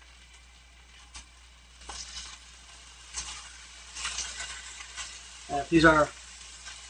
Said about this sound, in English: Now we're going to put the shrimp in, single layers.